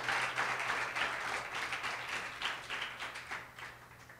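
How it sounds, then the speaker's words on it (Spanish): A church congregation claps in a fairly even, moderately loud burst of applause that continues steadily and tapers a little toward the end, with a low steady hum underneath. "¿Cuántos le dan un fuerte aplauso al Rey?"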